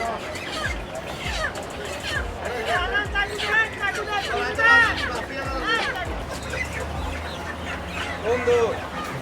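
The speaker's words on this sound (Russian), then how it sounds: "Ну вот те самые знаменитые маленькие цыплята тапака." Chickens at a crowded market in Bangladesh, with repeated clucks and squawks rising over a busy hubbub of nearby chatter and voices talking throughout.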